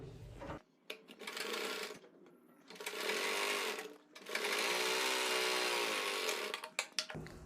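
Sewing machine stitching a seam on plazo trousers, three loud bursts of fast whirring stitching with short pauses between, separated by quiet handling clicks.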